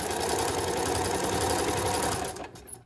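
A serger stitches elastic onto a swimsuit in a rapid, buzzing mechanical run that stops abruptly near the end, leaving a brief quieter moment.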